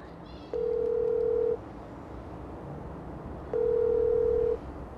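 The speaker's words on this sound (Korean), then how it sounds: "해당 교사에게 직접 전화를 걸어봤습니다." A telephone ringback tone sounds as a call is placed to a teacher in Korea, two steady one-second tones separated by a pause of about two seconds, clear over a faint background hiss.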